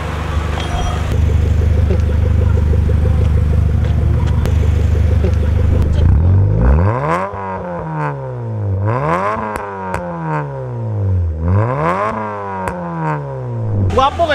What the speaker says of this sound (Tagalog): Hungaw kay na tambutso.